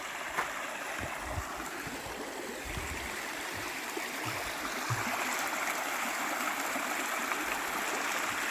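The Dan River flows and rushes steadily at a trailhead near Hanging Rock, a constant broadband wash of water with no speech.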